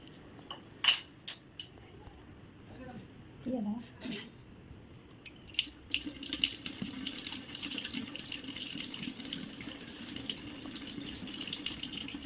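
Tap water runs into a sink during hand washing, first as scattered splashes and rubbing, then as a steady continuous stream for the second half, fairly close by.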